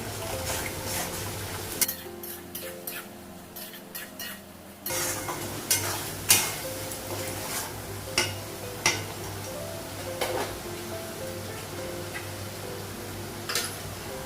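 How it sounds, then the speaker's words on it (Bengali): Spices and meat fry in a pan while a utensil scrapes and stirs, giving repeated close clicks and taps over a low sizzle, with no talk. "মশলাটা একটু ভেজে তারপর মাংসটা বাড়ানো"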